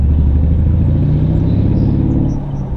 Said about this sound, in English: maybe you can hear the exhaust just a little bit better on lower gear